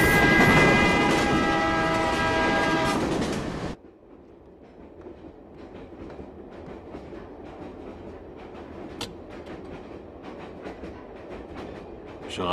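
A special train runs loud and close for the first few seconds, with a sustained horn blaring over the rumble. The sound then cuts to a quieter, steady rail rumble that continues to the end.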